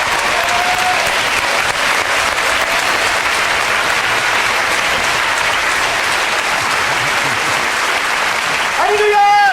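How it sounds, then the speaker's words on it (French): A church congregation gives sustained, loud and dense applause, with many hands clapping together in an even roar that fills the room for nearly ten seconds. "nous applaudissions le Christ en lui, le frère Silouane"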